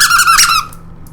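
A single loud, high squeak from a Pawstar fursuit paw, close and bright, fading out quickly.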